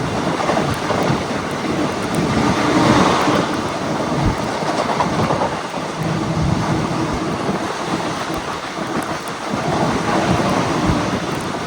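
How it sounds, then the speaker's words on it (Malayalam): Heavy rain pours steadily over the rumbling run of the Thiruvananthapuram–Chennai Superfast Express, a dense, continuous wash of water and rolling wheel noise heard from inside the moving train, close and loud with no talk. "വണ്ടി വിട്ട് നല്ല മഴ തുടങ്ങിയിട്ടുണ്ട്"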